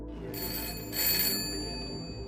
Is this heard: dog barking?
no